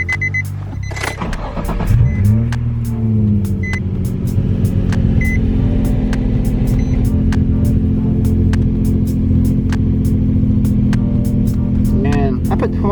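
Nissan 350Z engine idling or driving as a steady low drone with a brief rising rev near the start, plus faint cabin clicks and occasional beeps.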